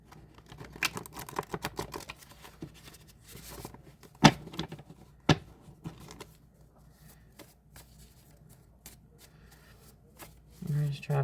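Quick riffling and soft card snaps repeat for several seconds, close and fairly quiet, with a couple of sharper slaps, ending in a low murmur.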